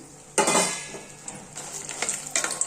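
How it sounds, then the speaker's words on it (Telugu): Dried red chillies dropped into hot oil for chukka kura pachadi burst into a sudden loud sizzle that settles into a steady crackle, with light clinks of a spoon against the pan close by. "ఇప్పుడు ఈ ఎండుమిర్చిని ఈ ఆయిల్లోకి వేసేసుకుందాం."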